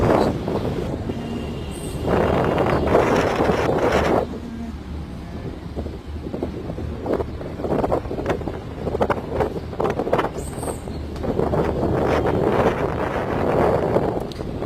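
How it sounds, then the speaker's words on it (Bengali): Strong wind buffets the microphone on a hilltop in heavy, gusty rumbling bursts that swell and ease throughout, loud and close. "প্রচন্ড বাতাস"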